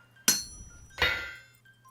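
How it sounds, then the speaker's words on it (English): Iron being hammered in the Vintage Story video game, a hand hammer working alongside a wind-driven helve hammer: two loud, ringing metallic strikes about three-quarters of a second apart, each decaying slowly, over a quiet steady hum. "It was certainly quicker working it together with the Helve hammer"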